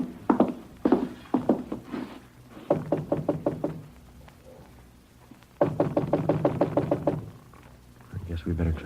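Knuckles rap on an apartment door in three bursts of rapid, hard knocks, loud and close, with quiet pauses between the volleys.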